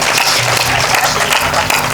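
Applause from the audience at a Hindi poetry recital, a dense, steady wash of clapping that fills the whole moment at close range, with no voice over it.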